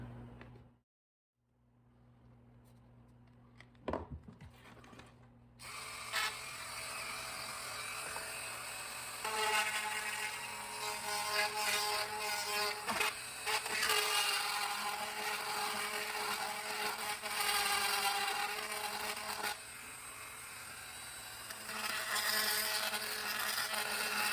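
A drill bores holes, its motor whirring steadily after a quiet start, with some uneven grinding as the bit cuts; no talk over it.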